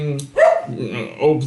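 A dog barks indoors beside someone playing Tomb Raider 2, giving two loud, close, harmonic yelping barks about a second apart, with a brief whine-like tail between them.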